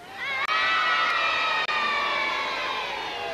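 A television studio crowd at a 1979 It's a Knockout game between Great Yarmouth, North Walsham and Norwich cheers and shouts loudly and continuously for the Norwich Joker, a dense, sustained roar of many voices with high-pitched screams.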